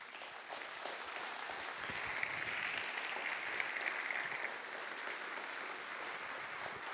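Steady applause from a conference audience at a company general assembly, sustained and even for the full stretch with no voices standing out above the clapping.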